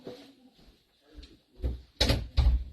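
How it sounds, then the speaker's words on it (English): A bedroom door is pushed shut at home, a few soft bumps and shuffles followed by two louder, close thuds as it closes and latches, with no talk. "and shut my door"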